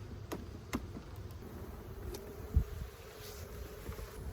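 Honey bees buzzing at an open hive during a fall inspection, a steady low drone with a few sharper bursts near the mic and faint clicks of handling in the background.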